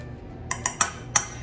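A utensil clinks against a mixing bowl as flour and salt are stirred together for a pumpkin pie crust: four light, sharp taps spaced unevenly over a quiet background.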